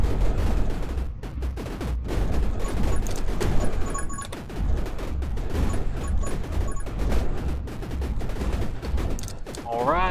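Dense, rapid gunfire from the video game 20 Minutes Till Dawn, a loud, continuous fusillade of overlapping shots with crunchy impacts, running nonstop throughout and ending with a rising chime-like effect.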